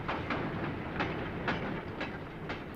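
A train, either a Tyne and Wear Metro unit or a goods train sharing the Metro tracks, rolls along the rails with a steady rumble and regular clickety-clack wheel beats about twice a second, with no speech.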